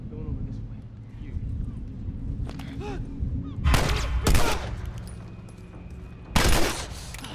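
Gunfire in The Last of Us Remastered: a few loud, sharp shots ring out, mostly single blasts with one quick pair, over low ambient rumble, while a voice speaks nearby.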